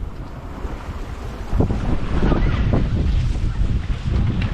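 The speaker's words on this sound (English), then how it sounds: "Wind's picking up a bit, which is good. Bit of swell" Gusting wind buffets the microphone as a yacht sails solo off the Isles of Scilly near St Martin's, with broadband rushing wind and a swell of water building partway through, loud and continuous with no voices.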